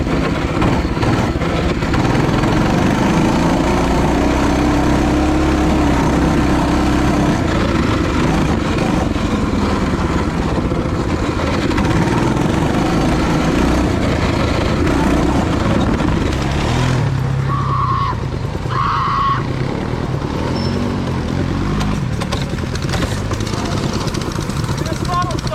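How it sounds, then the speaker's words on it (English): Small engines of a four-wheeler ATV and mini bikes run continuously outdoors, a steady droning motor sound that rises and falls slightly as they ride, with people talking over it. "we are going to go ride the 4-wheeler and the mini bikes"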